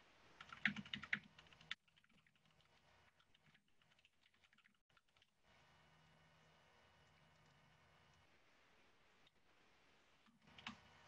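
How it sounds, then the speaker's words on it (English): Keystrokes on a computer keyboard, typed while entering a git command in a terminal; bursts of quick, light clicks, louder near the start and end, with quieter scattered taps between and no speech. "And I'll type it at the bottom."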